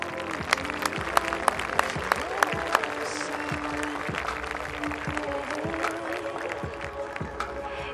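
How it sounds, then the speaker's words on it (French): Audience applause at a French cup event honoring its president, sustained clapping with sharp individual claps standing out, steady and fairly loud throughout. "Allez, on les applaudit bien fort."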